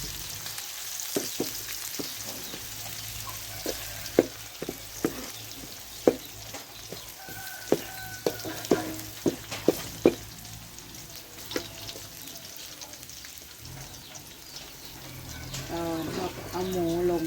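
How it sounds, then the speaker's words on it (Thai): Pork stir-frying in hot oil, destined for a cabbage stir-fry, gives a steady close sizzle with repeated clacks of a utensil against the pan, and a voice can be heard at times. "เอาหมูลงไปใส่น้ำมัน"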